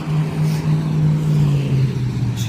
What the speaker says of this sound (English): jeez, cars are loud.